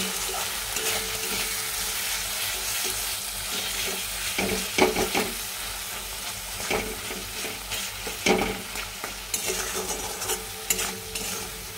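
Bay leaf, sugar, turmeric, chilli powder and salt sautéing in hot oil in a pan, a continuous close sizzle broken by repeated stirring scrapes and a few sharper clinks of the utensil.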